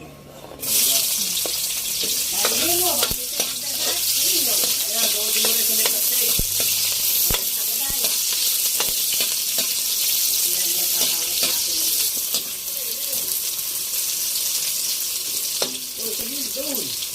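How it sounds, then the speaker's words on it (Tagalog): Onion, garlic and ginger sautéing in a hot pan, a loud continuous sizzle with occasional clinks and stirring scrapes, while a voice speaks briefly over it now and then. "tayo magigisa na"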